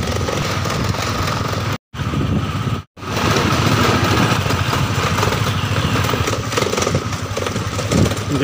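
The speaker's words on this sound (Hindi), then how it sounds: "चल रहे हैं बाइक से अंदर, पेड़ के अंदर दोस्तों बाइक से।" A motorcycle engine idles steadily and close by, a continuous low rumble that drops out briefly twice, with no talking over it, as the bike heads toward an old royal residence among trees in Pratapgarh.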